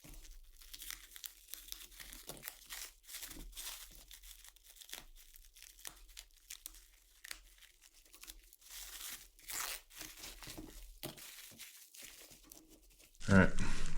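Plastic wrapping around a boxed 12-volt auxiliary battery crinkles and tears in scattered bursts, close and fairly quiet, ending in a sudden louder rustle.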